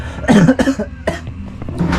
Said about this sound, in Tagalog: may ubo din ako dahil Every season kasi ubo ko eh